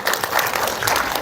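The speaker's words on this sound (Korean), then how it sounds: "박수 주세요." An audience at an elderly care welfare session breaks into a short, dense burst of applause, many hands clapping together loudly and steadily throughout.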